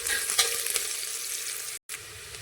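Spices are stirred into khichadi in a pan: a steady close sizzle with soft scraping stir strokes, broken by one very short silent gap near the end.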